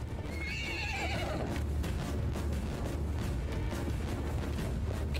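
A horse neighs with a high, wavering whinny in the game Mount & Blade II Bannerlord during a siege, with hooves clip-clopping and a dense low rumble of battle beneath it, no speech.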